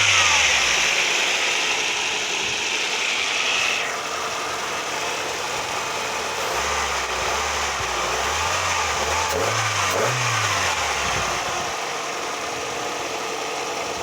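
A small Toyota 4-cylinder engine runs close by on a cold morning. It idles steadily, then revs in a few rising swells near the end, with a faint mechanical ticking and no voices.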